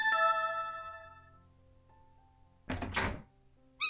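A door opens in the Nakayubi Castle puzzle video game: a chiming tone fades away, then after a quiet pause comes a single heavy thunk, with a short clink at the very end.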